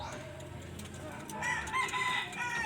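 A wild red junglefowl rooster crows faintly at a distance, a rising call that builds toward the end, over quiet outdoor background with a few other soft bird sounds.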